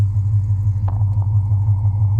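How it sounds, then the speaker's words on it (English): A Dodge Charger with a swapped 392 engine gives a deep, loud idle rumble close by, steady and throaty, with a brief small blip partway through. "So give it another rev for the end of the video."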